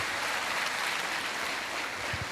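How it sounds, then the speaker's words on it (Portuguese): Church congregation applauding during a sermon at PIB de Redenção, a steady dense wash of clapping filling the whole moment at moderate level with no voices over it. "Você pode aplaudir a Jesus"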